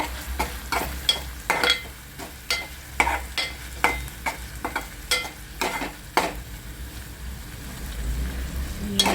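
Masala, hing powder, chilli and mashed tomatoes fry in hot oil while a spoon stirs them in the pan. A steady low sizzle runs beneath a series of regular, fairly close scraping strokes.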